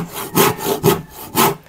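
A hand saw cuts through wood in several rhythmic back-and-forth strokes, close and fairly loud.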